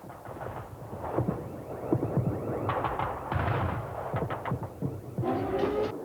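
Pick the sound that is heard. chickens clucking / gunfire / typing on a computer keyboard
gunfire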